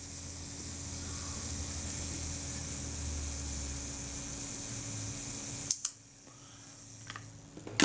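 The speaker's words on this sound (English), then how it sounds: "Release it, self timer's running down." A Voigtländer Reflex camera's self-timer winds down with a steady mechanical whirring buzz, close and faint, then ends in a few sharp clicks as the shutter releases.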